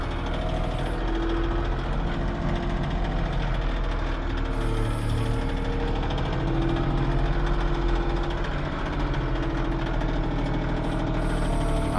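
A tractor engine runs under strain while lifting heavy firewood logs, giving a steady, loud, unbroken drone with a rumbling low end that holds for the whole stretch, with no voices.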